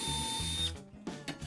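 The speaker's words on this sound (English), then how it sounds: "used a self-centering drill bit to drill a pilot hole at each corner" A self-centering drill bit boring a pilot hole at a corner of a router bit storage rack in a woodshop, a close steady whirring drill that stops, followed by a couple of short bursts.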